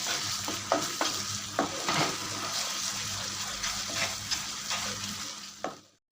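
A spice mixture with sugar is sautéed in a kadai for paneer bhurji, a continuous close sizzle broken by repeated sharp spatula scrapes and stirring knocks, fading out at the end.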